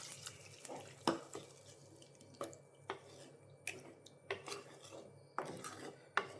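A cup of water is poured into a vegetable and dal curry of okra, drumstick and mango, with soft splashes and clinks of a utensil in quiet irregular bursts, close but faint, without speech.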